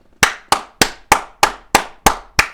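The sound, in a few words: hand clapping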